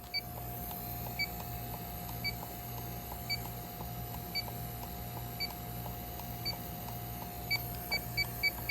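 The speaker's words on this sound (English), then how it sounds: "let's break out the leak detector." Refrigerant leak detector on a heating service call, emitting short regular electronic beeps that come faster toward the end, over a faint steady hum.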